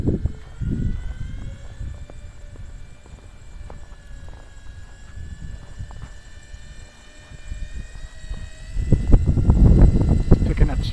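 A small wind generator spins up in the wind, producing a steady tonal whine whose pitch creeps slowly upward, over constant wind buffeting that swells into heavy gusts toward the end.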